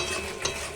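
Spice paste for shahi paneer stir-fried in oil in a pan, a brief continuous sizzle with scraping stirring and a small clatter partway through, close and steady, no voices.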